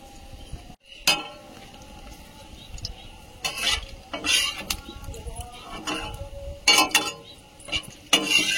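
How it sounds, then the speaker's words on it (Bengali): Dried red chilies fry in oil in a small wok, a soft sizzle broken by several sharp clinks and scrapes of a metal spoon against the pan, fairly quiet and close. "কড়াইতে তেল দিয়ে দিচ্ছি, শুকনো লঙ্কা"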